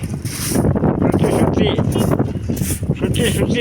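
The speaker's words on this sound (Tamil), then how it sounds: "ஆடி மாதம் காற்று, ஆளை கொஞ்சம் பார்த்து தூக்கு." Strong Aadi-month wind gusts across the top of the temple tower at Thirukkadaiyur, buffeting the microphone with loud, rumbling roars that swell and ease.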